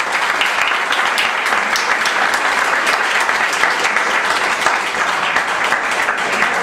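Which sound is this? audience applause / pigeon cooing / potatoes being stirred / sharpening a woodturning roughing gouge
audience applause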